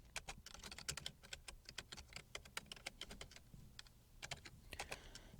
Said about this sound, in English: typing city names, press tab, and typing a number of employees